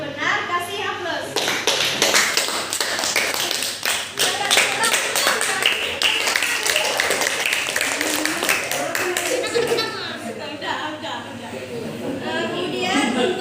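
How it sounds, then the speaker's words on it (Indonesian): An audience claps for a correct answer at a classroom question-and-answer session, steady rapid applause from many hands lasting several seconds, with voices talking over it. "Baik, jawabannya benar, kasih aplaus."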